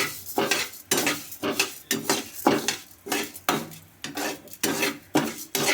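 A spoon scrapes steadily through urad dal frying in oil in a pan, with about a dozen rhythmic stirring strokes of metal on the pan, close and clear, and a faint sizzle underneath.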